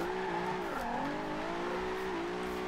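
Nissan GTR sliding sideways in the Forza Horizon 2 racing game, a sustained wavering tire squeal over a steady engine drone, bending in pitch as the drift shifts.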